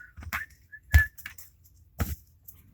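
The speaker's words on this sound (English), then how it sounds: "A little whistling." A person whistles a few short tonal notes in quiet between soft handling sounds during a tarot card reading, the whistle brief and faint near the middle.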